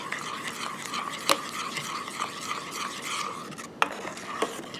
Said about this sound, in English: So I'm just going to stir it up until it's totally dissolved